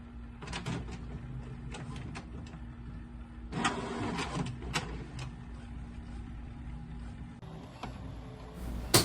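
Inkjet printer feeding A4 matte paper in high quality, with a steady mechanical hum, repeated clicks and ticks, and a louder whirring pass of the print head midway through.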